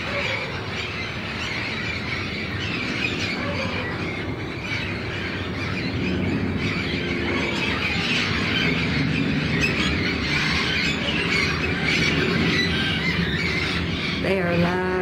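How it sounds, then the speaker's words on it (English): Loud parrots in Guadalajara, Mexico squawk and screech repeatedly over a busy outdoor background, their harsh calls overlapping throughout. "They are loud parrots."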